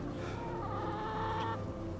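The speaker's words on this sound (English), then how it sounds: "Chickens." Chickens clucking in the video game Assassin's Creed Mirage, a run of close, fairly loud clucks and squawks forming a short flurry, with no talk over it.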